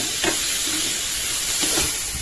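Tomatoes and spices sauté in a pan for a vallarai keerai chutney, making a loud, even hissing sizzle up close, with two soft scraping stirs of a spoon passing through it.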